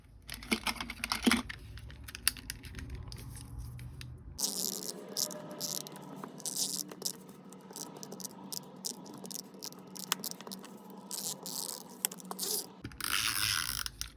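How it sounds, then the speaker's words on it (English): Tape is pulled off a roll in long ripping stretches and pressed onto a Christmas planner dashboard, harsh crackling tears that come and go with short pauses, loud and close. "So what I'm going to do is tape this to this."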